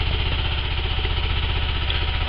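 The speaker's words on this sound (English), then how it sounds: "4-cylinder motor, pretty efficient." A four-cylinder engine in a YJ Jeep rigged with a plow runs at a steady idle, loud and close, its even rhythmic chug filling the whole short stretch with no talking.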